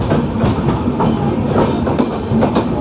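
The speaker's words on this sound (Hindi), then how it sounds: "पैरेलल चल रही है ना मुजफ्फरपुर आनंद विहार सब क्रांति सुपरफास्ट एक्सप्रेस।" The Muzaffarpur–Anand Vihar Sampoorna Kranti superfast express runs alongside on a parallel track with a loud, steady rumble and rhythmic clickety-clack of wheels on rail joints.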